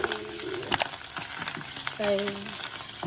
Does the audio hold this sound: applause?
no